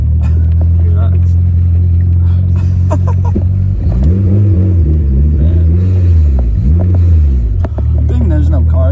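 A fully built Mitsubishi Evo with a Quartermaster clutch rumbles roughly at low revs, then blips its throttle in a couple of rising and falling swells. The engine is close and loud, with some talk over it.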